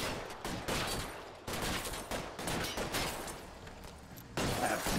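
Gunfire in L.A. Noire: The VR Case Files, a rapid series of sharp reverberant shots in bursts, fairly loud and continuous throughout.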